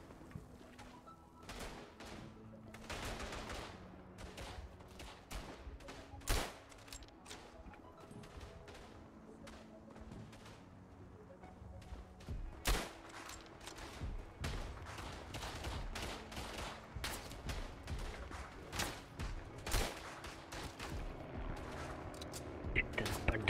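Gunfire aimed at the player in a shooter video game, repeated sharp shots and bursts scattered through, some close and loud, with a low tonal music bed underneath.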